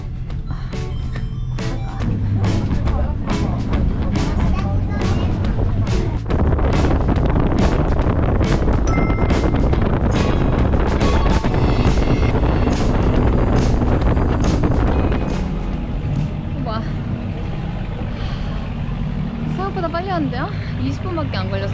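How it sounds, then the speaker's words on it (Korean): Strong wind buffets the microphone in the front seat of a fast-moving boat with no windshield, a constant loud roar over the engine and water, while people talk and exclaim through it. "근데 앞에 제일 앞자리 앉았는데 바람 가림막이 없었던 거야."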